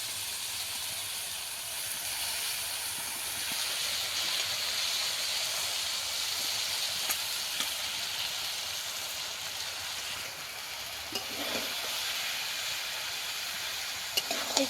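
Chopped greens sizzle in a pan with potatoes and khesari dal, a constant soft hiss of steam and frying that holds steady for the whole stretch, with a few faint clinks near the end.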